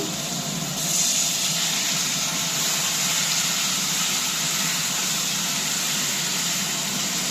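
Water poured onto peas in a hot pan hisses and steams in a loud, continuous rush that holds steady for several seconds, with no talking.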